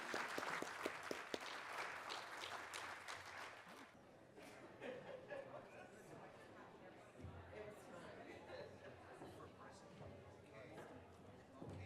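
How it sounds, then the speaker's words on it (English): A symposium audience applauds for the speakers in a dense burst of clapping over the first few seconds, then it thins into scattered claps and low crowd chatter. "Let's give them one more round of applause."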